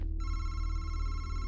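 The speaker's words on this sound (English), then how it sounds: "That phone ringing again." A telephone rings steadily and loudly inside the video game Madison, its tonal electronic bell sustained without pause over a low background hum.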